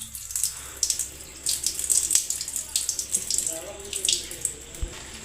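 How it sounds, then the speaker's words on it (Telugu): Flattened rice (poha) is washed under a running tap for a carrot poha tikki, a steady splashing stream of water into a bowl with fluctuating gurgles and brief clinks, close and continuous. "ఇప్పుడు మనం అటుకులను మంచిగా వాష్ చేసుకోవాలి."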